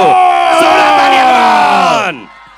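A crowd at the Shamshera trailer launch roars and cheers loudly for Ranbir Kapoor, voices rising together in a sustained shout before fading out after two seconds.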